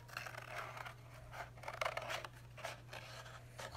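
Scissors snip little holes in cardboard for a homemade dwarf hamster toy, a series of faint, close cutting crunches and scrapes with no talk.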